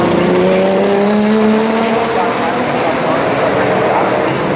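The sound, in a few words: BMW 325 race car engine on straight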